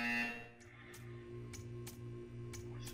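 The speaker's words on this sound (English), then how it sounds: "When you hear the buzzer, stare at the art." A steady electronic buzzer tone from the test chambers of the video game Portal 2, sounding alone for about three seconds with faint, regular ticking clicks over a low hum.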